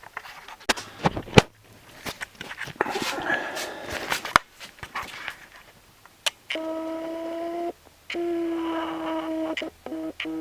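Old telephone system on a T1 line: after some clattering handling noises, steady electronic telephone tones sound in two sustained bursts with a short gap between them.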